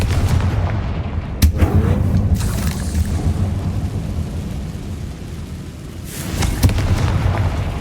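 Confringo spell explosions go off in the video game Hogwarts Legacy, two sharp booming blasts a few seconds apart, loud and close, each with a rumbling roar that trails off over low game ambience.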